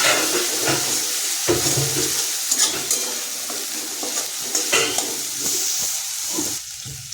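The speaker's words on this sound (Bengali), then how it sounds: "সুন্দর করে লাল লাল করে ভেজে নিয়ে দেবো আদা পেস্ট, টমেটো ছেড়ে" Ginger paste and tomato fry and get stirred in a hot pan for a Bengali kathal kofta curry, with a steady close sizzle and spatula scrapes and clatters against the metal throughout.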